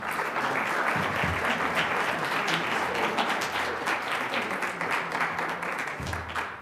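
Sustained audience applause follows a panel presentation at a public discussion event, dense and steady for several seconds, filling the room at an even level with no one talking over it.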